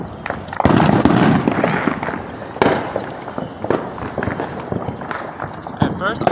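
Residential Fourth of July fireworks in Las Vegas neighborhoods, a steady run of booms, pops and crackling bursts at varying distances, with people talking and moving around nearby.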